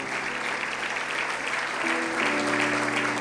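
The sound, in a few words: audience applause in church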